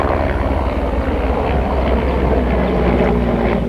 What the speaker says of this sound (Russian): над головой промчались два вертолета